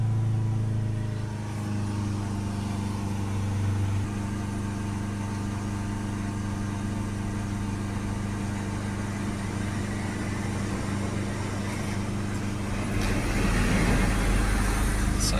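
A car engine idles steadily and close, its revs slowly creeping higher, a constant low drone that picks up and grows rougher near the end, with no voices.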